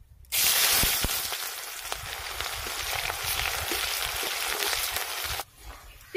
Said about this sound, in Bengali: ওই একই তেলে রুই মাছের কালিয়ার জন্য একটু পেঁয়াজের বেরেস্তা ভেজে নেব।